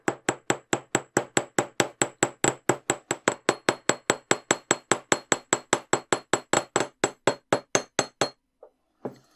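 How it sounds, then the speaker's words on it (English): Steady rapid hammering on jewellery wire while shaping a wire-wrapped heart pendant: about forty sharp, bright metallic taps at an even rhythm, close and alone, stopping near the end with a couple of faint knocks. "And then we can continue hammering up the piece."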